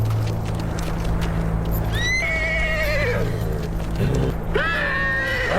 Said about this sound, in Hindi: आला खातून की घोड़ी है, बहुत चीख रही है,